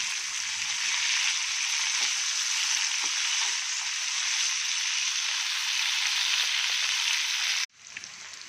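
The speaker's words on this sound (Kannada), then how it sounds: "ಅದನ್ನು ಹಾಕ್ತೀನಿ ಇವಾಗ ಇದರೊಳಗಡೆ, ಎಣ್ಣೆ ಒಳಗಡೆ, ಒಗ್ಗರಣೆ ಒಳಗಡೆ. ಎಣ್ಣೆಲಿ ಚೆನ್ನಾಗಿ ಫ್ರೈ ಆಗಲಿ." Cut okra (bendekai) fries in an oil tempering for okra chitranna, giving a steady, dense sizzle that holds close and loud for most of the stretch before cutting off abruptly near the end.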